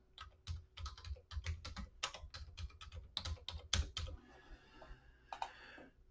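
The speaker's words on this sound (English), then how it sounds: "you will actually write your first and last name and then click on enter" Keys clatter on a computer keyboard as a name is typed into a slide, brisk irregular bursts of clicks up close, pausing briefly near the end before a few final taps.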